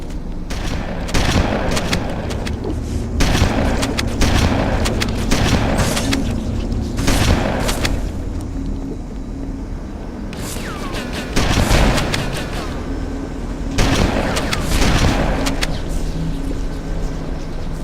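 A shotgun fires repeatedly in Halo: Combat Evolved, loud booming blasts spaced a few seconds apart over a constant rumbling game backdrop, alongside scattered rapid gunfire.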